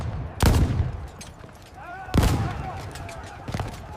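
Two heavy gunshots boom from modern army gunners in a battle against a lone samurai, each a sharp loud blast with a ringing tail, and a faint voice and clatter sound in between.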